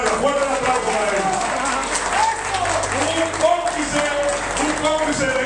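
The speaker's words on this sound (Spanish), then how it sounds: "Fuerte el aplauso." Crowd applause at a carnival participants' meeting, loud scattered clapping from a gathered group with voices and cheering mixed in throughout.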